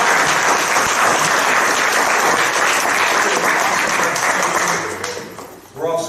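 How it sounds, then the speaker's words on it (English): Steady applause from an audience at a property tax seminar, many people clapping together for several seconds before it fades out near the end, with some voices mixed in. "let's applaud for our main speakers."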